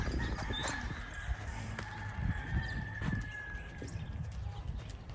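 Hooves of a Rocky Mountain Horse moving in saddle gait, a soft rhythmic clip-clop of footfalls at a steady pace, fairly quiet with faint background sounds.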